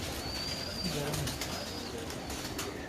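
Pigeons coo softly in a loft full of birds, low murmuring calls over a steady noisy background, with faint chirps and brief wing sounds.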